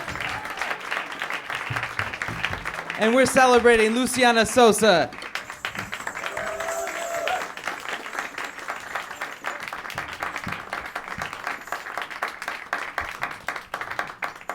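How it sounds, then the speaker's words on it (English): An audience at a live music performance at Berklee gives a sustained round of applause, with a burst of cheering early on and a voice speaking over the steady clapping. "Please give a round of applause."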